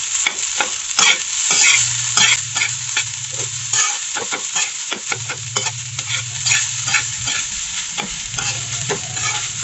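Egg rice being stirred and fried in a pan: steady scraping strokes of a utensil over a continuous close sizzle, with repeated clinks and scrapes in an uneven rhythm, no talking.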